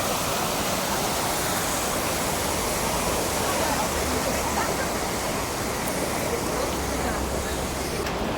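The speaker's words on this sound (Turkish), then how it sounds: "Burada da böyle suyumuz akıyor." Stream water flows through a village in a continuous rushing, splashing wash, close and steady with no breaks.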